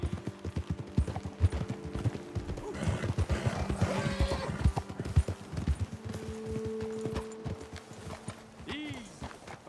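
Horses in the Red Dead Redemption 2 video game trot with steady clip-clop hoofbeats and let out several whinnies, close and fairly loud, with people talking over them.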